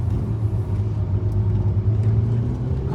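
A Ferrari 488 engine running as a low, steady rumble under a passenger ride, continuous and fairly loud with no voices.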